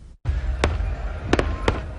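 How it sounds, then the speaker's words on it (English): Fourth of July fireworks such as M80s and Roman candles go off in several sharp, loud bangs, one single blast and then a quick double and another, over a low background rumble. "The sound of fireworks is a trigger for someone with his condition."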